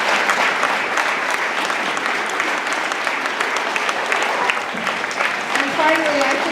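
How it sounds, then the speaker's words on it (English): Steady, full applause from a school audience for fourth-grade recorder performers at an elementary school showcase, continuous throughout, with a voice starting to speak faintly at the very end. "Big round of applause for those kids."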